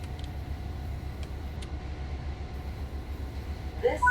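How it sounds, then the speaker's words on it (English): Another train's engine in the Train Sim World 6 game on the Morristown Line, a low steady rumble with rhythmic throb, faint and distant, with a brief chime near the end. "The engine sound is not ours, it is the other train"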